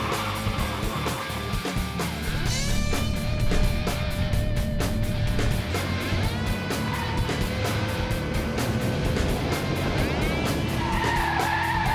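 A turbocharged 200 horsepower car accelerating hard, its engine climbing through the gears with rhythmic shift breaks and a whining rise in pitch, loud and close from inside, tire squeal mixed in.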